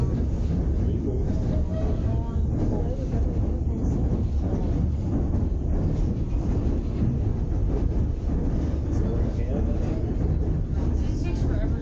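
White Pass excursion train rumbling past in Skagway, Alaska, a steady low, heavy roar with wind buffeting the microphone throughout, close and continuous with no clear pauses.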